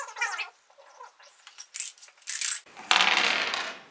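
Dice tumbling across a table during a game of Yahtzee, a scattered patter of small clicks followed by a denser rattle as the dice roll and settle, fairly close and with no talk.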